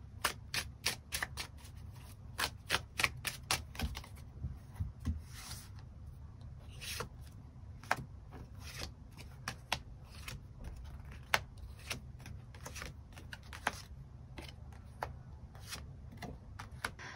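Tarot cards are shuffled and drawn by hand: a long run of quick, soft riffling and sliding card slaps repeating at an uneven rhythm, close and quiet, with no speech.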